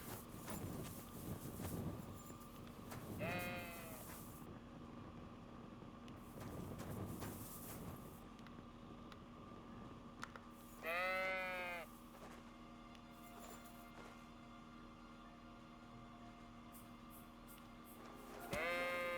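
Sheep in Kingdom Come: Deliverance II bleat in a few separate calls spaced over the clip, mid-distance, against a low steady ambient hum.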